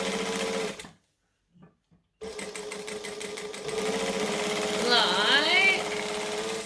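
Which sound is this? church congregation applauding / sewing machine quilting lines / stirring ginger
sewing machine quilting lines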